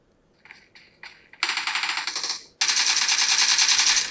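Suppressed gunfire from a mobile shooter game, played on a Samsung Galaxy A55: a few short separate shots, then two sustained bursts of rapid automatic fire, loud and close, with no talk over them.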